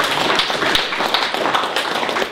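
An audience at a solidarity-against-austerity gathering gives a round of applause, dense steady clapping filling the room for a couple of seconds.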